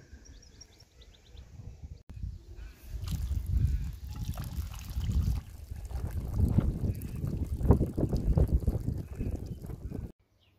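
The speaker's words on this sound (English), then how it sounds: "So we'll tip this water out, change it, and then we'll let it run for a day or so" Dirty water tipped out of a rock tumbler used for opals, a steady rushing pour with low gurgling that builds and runs for several seconds, close and moderately loud, ending abruptly.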